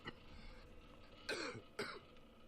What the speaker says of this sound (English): And he's still coughing.